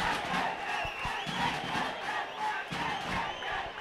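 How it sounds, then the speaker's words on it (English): Kandy supporters cheer and shout as a loud, continuous crowd roar at a rugby match between Kandy SC and Navy SC, with rising swells of voices throughout. "the Kandy supporters are now on their feet"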